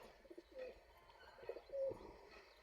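A pigeon coos softly a few times, low throaty murmurs against quiet background.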